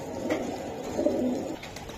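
Pakistani teddy pigeons coo in soft, throaty, repeated calls close by, overlapping in a low murmur with no talk.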